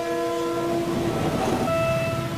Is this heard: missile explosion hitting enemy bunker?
no